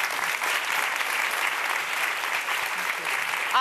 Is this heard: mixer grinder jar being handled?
no